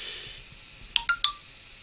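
A phone gives three short electronic notification beeps in quick succession, close and clear, with a faint, steady background hum and no talk.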